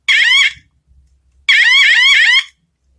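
A BBR Tuning bicycle 3-in-1 brake light horn plays its car-alarm sound: two loud, rapidly warbling electronic bursts separated by a short silent gap, heard alone and up close.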